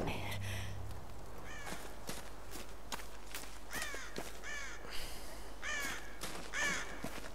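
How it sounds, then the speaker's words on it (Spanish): A crow in the Tomb Raider game caws repeatedly in short harsh bursts spaced around a second apart, clear and fairly near over a quiet outdoor ambience with faint footsteps. "Parece un cuervo."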